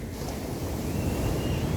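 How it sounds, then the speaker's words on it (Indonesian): Ocean waves wash onto a beach in strong wind, a continuous broad roar of surf with heavy wind buffeting the microphone, loud and close, with no speech. "Pasti ada yang membuat ombak ini sampai bersuara begitu besar, kencangnya ditiup angin sampai ke pantai"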